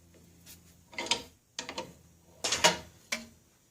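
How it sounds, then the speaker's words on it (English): A hand punch tightened with a wrench, clamped in a vise, cutting a hole through aluminum: close, quiet metallic clicks and ratcheting creaks in short bursts, four or five separate cranks spaced irregularly. "I'll get a wrench and we'll punch that hole."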